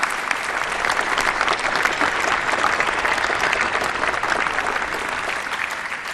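Large commencement crowd at Harvard University's 2010 ceremony applauding medalists, a dense, steady roar of clapping sustained and even for several seconds without talk.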